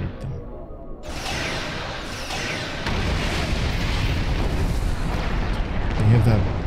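Bombardment from artillery vessels in Star Trek Online, a rumbling stream of booming explosions that thickens and grows louder, with a heavy blast near the end.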